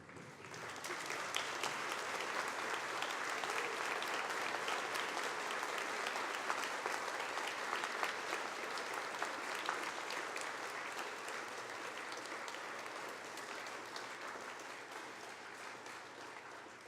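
Graduates at a University of Guelph convocation ceremony stand and turn to applaud their families, a sustained, dense wash of clapping from a large crowd that holds steady for many seconds before gently easing off.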